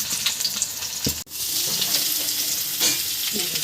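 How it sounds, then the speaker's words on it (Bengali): Potatoes frying in a pan of hot oil for a Bengali fish curry give a loud, steady sizzle, broken once by a brief stirring clatter. "আলুগুলো ভেজে নিয়ে তবে তরকারি চাপাবো।"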